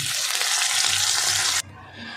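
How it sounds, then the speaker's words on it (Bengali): Loud, steady sizzling of a rohu fish head frying in hot oil, which cuts off abruptly near the end, leaving a quieter background. "এরকম লাল করে ভাজতে হবে মাথাটা ঠিক এইভাবে লাল করে ভেজে নিতে হবে"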